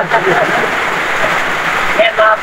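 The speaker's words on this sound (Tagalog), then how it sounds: "Lakas na ng ulan." Heavy rain pours in a dense, steady hiss, loud and close, while people talk briefly over it.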